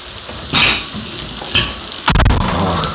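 Food sizzles and crackles in a hot pan up close, with a few louder bursts of spattering and stirring scrapes.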